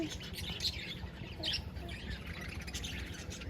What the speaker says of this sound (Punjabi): ਕਿੰਨੇ ਸੋਹਣੇ ਤੋਤੇ